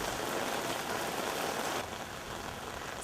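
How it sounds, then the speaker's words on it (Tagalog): Heavy rain pours down steadily in a broad, continuous wash that eases slightly partway through and carries on without a break, with no voices over it. "Sa pagsisimula ng aming pag-iikot, bumuhos ang ulan"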